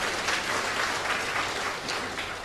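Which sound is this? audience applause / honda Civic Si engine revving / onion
audience applause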